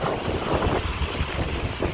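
Strong gusty wind from a small windstorm with rain in a village, buffeting the microphone, a constant loud low rumble with no voices.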